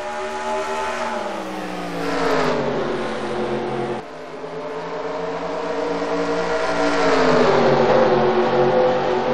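Engines of NASCAR race cars roaring in a video game as the field gets underway, a loud rising whine that climbs in pitch, dips briefly, then builds again.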